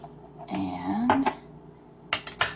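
A spoon clinks and scrapes against a bowl while mayonnaise is stirred into a small batch of aioli; a voice speaks briefly first, then a few sharp clinks follow close by.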